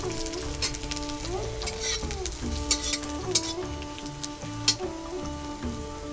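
Onions fry in a pan while a traditional Jharkhand dish is cooked, giving a steady crackling sizzle that runs throughout. Stirring scrapes and a few sharper pops sit on top of it, with a faint hum in the background.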